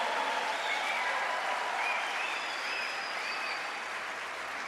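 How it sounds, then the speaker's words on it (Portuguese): A church congregation applauds during a Sunday worship service, a dense, steady wash of many hands clapping that holds at an even, loud level throughout. "Pode aplaudir Jesus."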